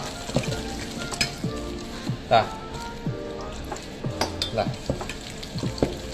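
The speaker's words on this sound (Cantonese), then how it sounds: "分次加入嘅水 攪勻佢，等佢完全吸收水分" Meat marinating with starch slurry is stirred while water is added in portions, giving repeated wet squishing and scraping strokes at a steady rhythm, close by, with a voice speaking underneath.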